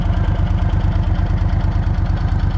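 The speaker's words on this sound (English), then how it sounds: "Very smooth running engine, really nice." A 2000 Moto Guzzi Jackal V11 motorcycle engine idles close by with a loud, even, rhythmic pulsing throb that stays steady throughout.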